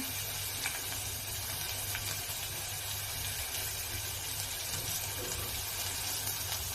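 Onion frying in hot oil inside a pressure cooker gives a steady, soft sizzle that runs unbroken and fairly faint, with no one talking.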